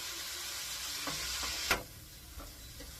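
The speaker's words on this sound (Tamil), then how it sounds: "ஒரு 2 மினிட்ஸ் நம்ம அந்த கேரட்டை இப்படியே கிண்டிட்டே இருக்கணும்" Grated carrots being stirred in ghee give off a soft, low sizzle, with a few scattered scrapes and taps from the spoon against the pan, close and fairly quiet.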